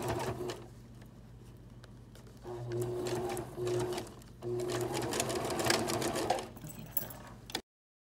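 A sewing machine stitches layers of a fabric face mask, running in a short burst, pausing, then buzzing steadily for several seconds before a final brief run, close by and fairly loud.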